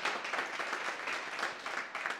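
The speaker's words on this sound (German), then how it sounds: "das ist wieder ein Applaus wert" A studio audience at a sports talk show applauds, a dense, even patter of many hands clapping that holds steady throughout and is moderately loud.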